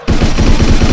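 Loud, close rapid-fire gunfire from the shooting game Gunner Battlefield 2017, a steady stream of shots in a fast, even rhythm filling the whole second.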